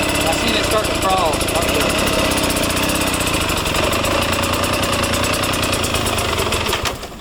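A motorcycle engine idles steadily while the bike crawls up a slope with no throttle, a loud, even, close rumble that fades slightly at the end, with a voice talking over it.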